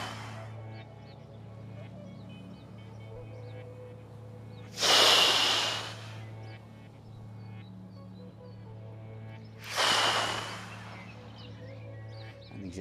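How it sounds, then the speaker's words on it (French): Two deep, slow breaths during a beginner tai chi stretching exercise, each a loud, airy rush several seconds apart over a steady low hum. "On inspire et on expire."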